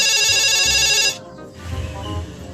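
A phone ringtone plays loud and steady for about a second, then cuts off, leaving a low background rumble indoors.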